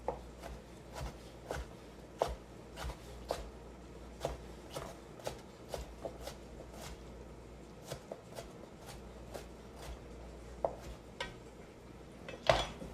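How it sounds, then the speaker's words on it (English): Sweet peppers being chopped with a knife on a board, a steady run of sharp, evenly spaced cuts about one per second, close and clear over a quiet kitchen background. "That's all there is to chopping peppers."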